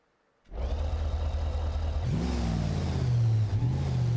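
A car doing a burnout in BeamNG.Drive: the engine bursts to life and revs hard and steadily, rising in pitch as the wheels spin, loud and close, no talking.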